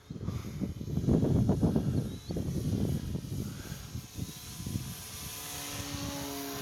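A small RC model airplane motor pushed to full power, a steady buzzing propeller drone with engine roar that rises and falls as the plane passes, loud and close at first then easing off; no talk.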